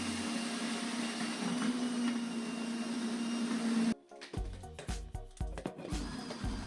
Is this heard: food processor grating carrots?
yes